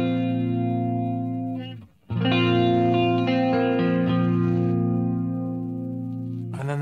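Sustained electric guitar chords through a TC Electronic Corona Chorus pedal, shimmering and slightly wavering, played alone; a brief gap near two seconds, then the ringing chord resumes.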